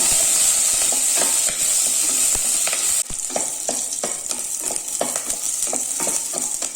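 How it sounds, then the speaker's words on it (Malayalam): Curry leaves and green chillies fry in hot ghee for a lemon-ginger rasam, a steady bright sizzle running throughout with occasional spoon-scrapes against the pan; no one speaks. "കുറച്ച് കറിവേപ്പില ഇട്ട് കൊടുക്കാം രണ്ട് പച്ചമുളക് ഇട്ട് കൊടുക്കാം അതൊന്ന് ഈ നെയ്യിൽ കിടന്ന് നന്നായിട്ടൊന്ന് പൂട്ടട്ടെ"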